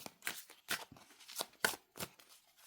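A deck of oracle cards is shuffled by hand, with several quick, papery riffling bursts in an irregular rhythm, close and fairly soft, with no talking over them.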